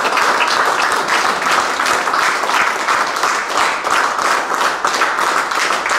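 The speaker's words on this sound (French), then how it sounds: "je pense qu'on va encore l'applaudir" Sustained, loud applause fills a room after a speech at an art exhibition, many hands clapping densely and evenly for the whole stretch with a slight pulsing rhythm.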